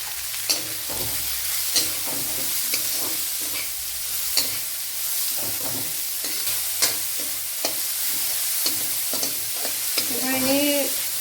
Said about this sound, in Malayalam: കൊച്ചുള്ളിയും സവാളയും നല്ലപോലെ ഒന്ന് വയണ്ട് വരണം